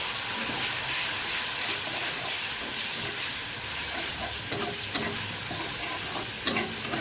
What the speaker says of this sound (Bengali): এই মশলাটা দিয়ে আমি ভাজি ভাজি করে নেব।